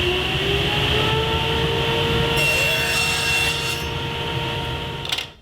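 A table saw rips a strip of wood into quarter-inch by quarter-inch pieces, guided by a GRR-RIPPER push block. The blade's steady, loud whine and grinding run continuously for several seconds and cut off abruptly at the end.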